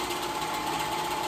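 A home sewing machine runs steadily, stitching the waistband of paperbag pants, a close continuous motor whir with no pauses or talk.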